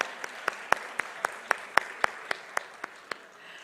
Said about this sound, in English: So can we have a huge round of applause for all the women in the room?